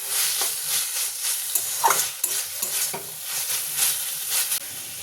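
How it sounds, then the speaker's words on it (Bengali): Banana-stem thor kurui stirred in a pan after being uncovered, with rhythmic scraping strokes of a spoon over a soft background sizzle, close and fairly loud, with no voices. "আমি আবার এটা ভালোভাবে নাড়াচাড়া করে নিচ্ছি।"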